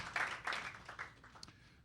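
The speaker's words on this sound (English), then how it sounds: "Let's give them a round of applause" Applause for the Arkansas House and Senate members standing at a candidates forum, a brief burst of scattered clapping from a small crowd that quickly thins out, fairly faint.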